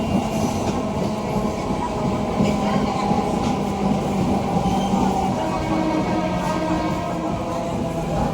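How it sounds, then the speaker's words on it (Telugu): A MEMU passenger train pulling away from Budvel station after a one-minute halt, a steady loud rumble of wheels and carriages heard from on board, with faint clatter and no speech. "1 నిమిషం హాల్ట్ తర్వాత మన ట్రైన్ తిరిగి బయలుదేరింది."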